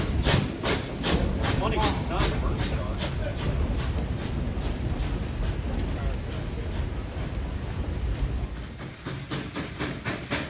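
K-28 steam locomotive running on the Rio Grande railroad near Rockwood, a steady loud rumble with hiss and rhythmic clatter of cars throughout.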